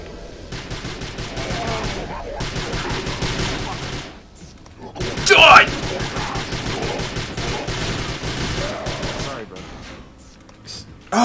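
Rapid bursts of gunfire in the video game Prey, dense automatic volleys broken by short pauses, with a sharp louder blast mid-way and faint speech underneath.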